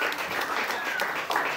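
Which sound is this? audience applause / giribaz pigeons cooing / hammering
audience applause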